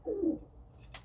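A pigeon gives a low, throaty coo inside a loft, one short close call followed by quiet rustling and a brief flutter.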